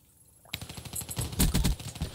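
Automatic gunfire from the Black Ops 3 video game bursts in after a half-second of quiet, with rapid overlapping shots and explosive impacts loud and close throughout.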